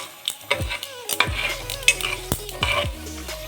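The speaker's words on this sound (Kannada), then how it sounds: "ಬ್ರೌನ್ ಕಲರ್ ಬರಬೇಕು ಕಡಲೆ ಬೀಜ, ಅಲ್ಲಿವರೆಗೂ ಫ್ರೈ ಮಾಡ್ಕೊಳ್ಳಿ." Peanuts frying in hot oil in a pan while being stirred, with a steady sizzle and repeated scraping clinks of the spoon against the pan, close and clear, no talking.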